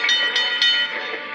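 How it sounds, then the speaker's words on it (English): Old west steam train from The Iron Horse iPad video game, a brief burst of chugging rail noise with faint whistle-like tones, heard alone without any voices. "So this is out west and you got the old choo-choo."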